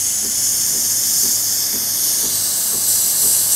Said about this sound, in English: I'm going to turn on this steamer, okay?